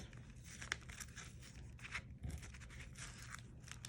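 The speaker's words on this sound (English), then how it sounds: "I'm going to take that tape off." Tape is peeled off a paper pattern in close, quiet, crackly tearing and crinkling, with small irregular rips and paper rustles.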